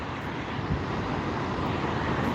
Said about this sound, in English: And here landing, we have a private jet. We have a NetJets Embraer Phenom 300 coming from Las Vegas.